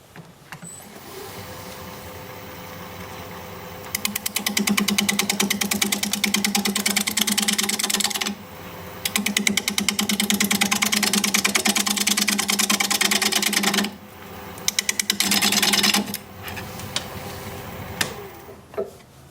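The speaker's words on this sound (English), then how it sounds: "We're going to be turning at 580 RPM, 5/8 inch bowl gouge, mask and face shield on." Wood lathe running at 580 RPM while a 5/8 inch bowl gouge cuts a bowl, with a steady motor hum and rapid chattering cutting noise in long close passes broken by brief pauses.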